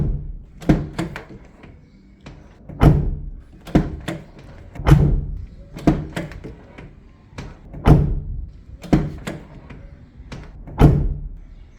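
A car door is shut again and again after a small rubber damper piece has been fitted to it. Each closing lands as a deep, close thunk with a short rattle, repeating at a steady rhythm of a few seconds with no speech.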